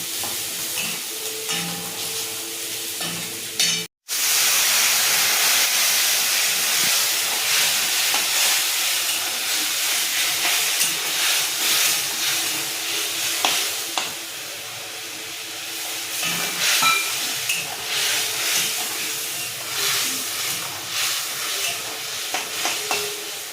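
Water poured into a pan of frying rohu fish roe mixture with curry leaves, bursting into a loud, steady hissing sizzle after a brief cut, with occasional stirring scrapes and bubbling close up.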